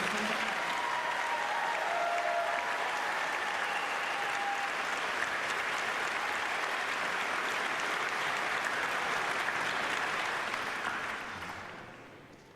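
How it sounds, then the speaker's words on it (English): A large audience at a spring convocation applauds loudly and steadily for about ten seconds for master's graduates, then the clapping fades out toward the end. "please join me in a round of applause for our master's graduates."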